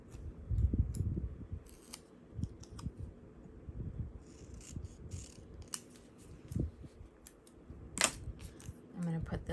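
Scissors snip through paper cut-out lettering for a scrapbook layout, a series of close, crisp cuts in uneven bursts, with a faint click or two and soft background hum.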